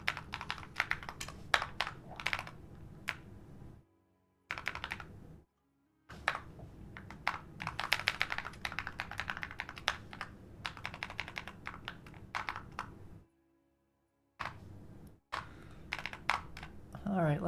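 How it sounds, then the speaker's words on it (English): Computer keyboard being typed on during a live programming stream, with dense continuous key clatter broken by a few short pauses, fairly close and moderately quiet, with some low background sound underneath. "Yeah, the keyboard sounds awesome."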